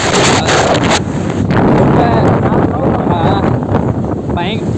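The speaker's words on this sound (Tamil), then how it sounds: "பயங்கரமாக காற்று அடிக்குது." Strong wind buffets the microphone in a loud, continuous roar, with muffled rumbling throughout and brief higher whistles.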